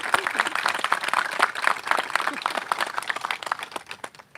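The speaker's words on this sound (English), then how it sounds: "Can we give all those groups a huge round of applause?" Audience applauding gun violence prevention groups, including the Giffords Law Center and Women Against Gun Violence, at an awareness event: a dense patter of handclaps from a crowd, fairly loud at first and thinning out toward the end.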